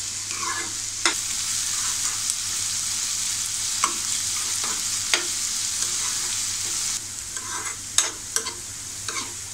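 Onion fries in a pan for prawn masala with a constant bright sizzle, and several sharp scrapes from stirring break through it. No voices are heard.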